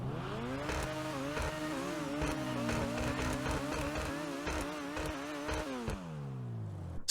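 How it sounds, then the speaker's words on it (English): An Overflod Entity XXR sports car engine in GTA Online revs up and down continuously, its pitch rising and wavering through several throttle blips before dropping away as it settles. "This car actually sounds pretty damn good"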